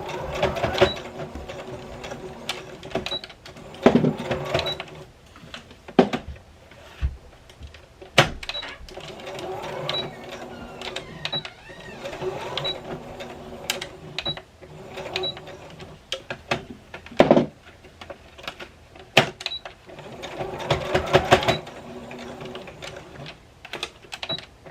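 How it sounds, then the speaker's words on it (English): A sewing machine stitches elastic onto a fabric face mask in a square of straight stitches, sounding as rapid mechanical clatter in short bursts with pauses while the fabric is turned, fairly close. "I'm going to do a square pattern of straight stitches"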